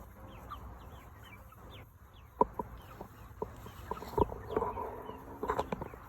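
Young egg-laying hens, under two months old, clucking softly and repeatedly at close range, with a few louder rustles and knocks among the calls.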